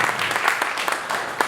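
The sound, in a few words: audience round of applause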